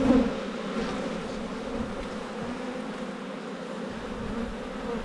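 Honey bees buzz at an opened, long-uninspected abandoned beehive, a dense, steady drone that stays close and constant throughout.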